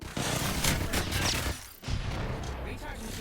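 Rapid gunfire and explosive bursts crackle densely in an Apex Legends battle, loud and continuous, dipping briefly before the shooting resumes.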